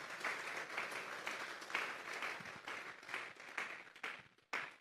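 Congregation applauding in a church service, a dense sustained wash of clapping from many hands that swells and dips over several seconds before breaking off near the end.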